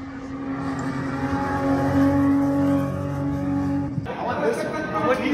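Car engine holding a steady high drone and then shifting during a final time attack run, loud and continuous, with someone talking over it throughout.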